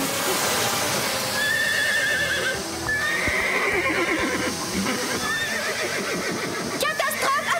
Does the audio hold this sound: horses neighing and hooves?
yes